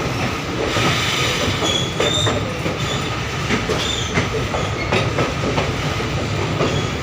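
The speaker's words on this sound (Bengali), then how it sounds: "পাহাড়ের বা পর্বতের ভেতর সুড়ঙ্গ পথ দিয়ে ট্রেনটা এগিয়ে চলেছে অনেকটা দূর।" A train runs through a mountain tunnel near Haflong, Assam, making a loud, steady rumble from inside the carriage, with rhythmic wheel clatter and thin metallic squeals rising over the enclosed roar.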